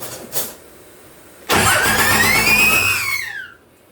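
A 235hp Cummins turbo diesel in a Dodge M37 on 37-inch tires cranks with a sharp burst that catches into a loud, steady running roar, a rising turbo whine climbing over it before it cuts off abruptly.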